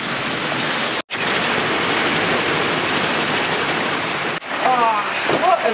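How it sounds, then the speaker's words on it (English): Heavy rain pours down steadily in a squall aboard a sailboat, a dense unbroken wash of noise that cuts out abruptly twice, with a voice talking briefly near the end. "Oh, what a rainy day."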